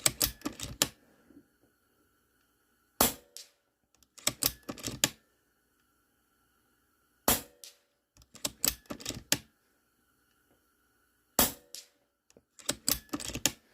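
A DAR GEN-3 .22 PCP air rifle fired at targets outdoors in snow, giving sharp, close cracks and clicks in tight clusters, with several bursts separated by stretches of near silence.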